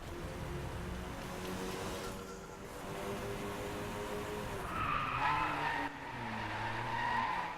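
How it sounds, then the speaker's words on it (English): Tires skid and squeal as a race car drifts through a corner in the Driveclub racing game, a steady engine drone running under long sliding screeches that swell louder toward the end. "Oh my god, that drift."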